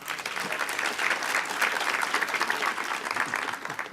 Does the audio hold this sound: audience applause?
yes